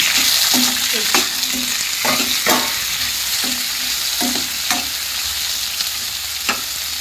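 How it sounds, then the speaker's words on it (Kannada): Chopped onion, garlic and tomato fry in an oiled pan for a North Karnataka brinjal curry. A loud, continuous sizzle is broken by regular rhythmic spatula scrapes and stirs about every half second. "ಬೆಳ್ಳುಳ್ಳಿ ಟೊಮೆಟೊ ಹಾಕ್ಕೊಂಡು ಸ್ವಲ್ಪ ಫ್ರೈ ಮಾಡ್ಕೋಬೇಕು"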